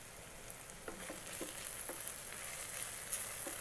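Ginger paste and garlic paste fry with browned onion in an Instant Pot, a faint steady sizzle with a few soft stirring scrapes, close but quiet and alone.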